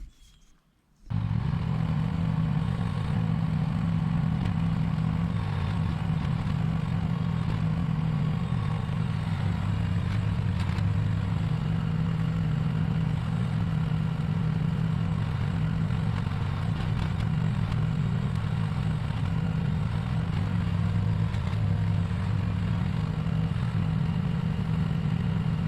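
A Huayee HY12C mini excavator's engine warms up at a steady, loud idle, a continuous low rumble with light clatter that holds evenly throughout and has no voices.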